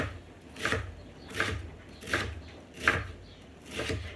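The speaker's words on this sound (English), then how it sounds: "So now we are going to cut the onion" Knife chopping onion on a cutting board in a home kitchen, five separate sharp chops spaced about a second apart, close and fairly loud with no talking.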